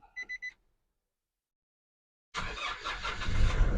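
A 2018 Nissan Navara Caliber 2.5 pickup with automatic transmission gives three quick dashboard chimes, falls silent, then its engine cranks and catches into a loud, close, rumbling idle.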